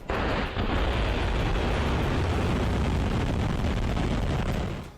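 A Russian Sarmat missile launches from an underground silo in a test. A loud, sustained roaring rumble runs unbroken from start to end, and no voices are heard.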